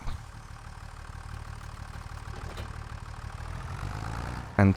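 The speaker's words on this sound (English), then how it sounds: "Let's get into this tractor" Tractor engine idling in Farming Simulator 25: a steady, low, rumbling chug at even volume, close by, ending in a sudden louder burst.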